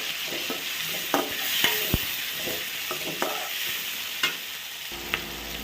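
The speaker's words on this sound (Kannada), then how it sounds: "ನಂತರ ಈಗ ಟೊಮೆಟೊ ಹಾಕ್ಕೊತಾ ಇದ್ದೀನಿ." Tomatoes sizzle and fry in hot oil while being stirred, with steady crackling and scattered scrapes and clinks of a spoon against the pan, close and moderately loud.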